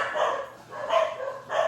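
Several dogs bark at home, most likely at someone ringing the back doorbell, giving three barks spaced at a steady rhythm that sound moderately close, with no talking over them.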